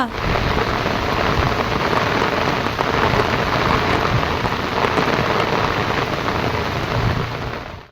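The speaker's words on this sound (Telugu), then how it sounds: "2 రోజుల సంధి చిన్న సన్నగా రాలుతూనే ఉన్నాయి చినుకులు" Steady rain falls during a cyclone-driven spell of drizzle in Telangana, a dense continuous patter that stays even and fairly loud throughout with no speech.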